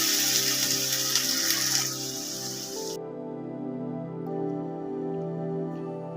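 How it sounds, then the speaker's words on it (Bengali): Mixer-jar rinse water poured into a poppy, mustard, green chili and coconut paste for vegetarian begun paturi, a short broadband splash and gush that stops abruptly midway, leaving a quiet kitchen background. "একটু জল দিয়ে দিলাম মিক্সির বাটির ধোয়া জলটা একটু দিয়ে দিলাম"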